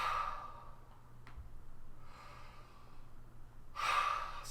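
Breathy yawns during a voice warmup stretch, a soft airy exhale at the start and a louder one near the end, faint and close with quiet breathing between.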